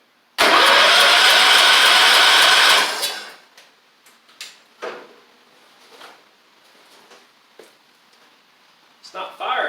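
A 1985 Wheel Horse 312-8 garden tractor engine cranks loudly for a few seconds without firing, then stops, leaving faint clanks and rustling.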